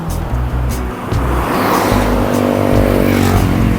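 Cars pass close by on a main road in Bermuda, engines and tires building into a loud, continuous roar as traffic rushes past, with no speech.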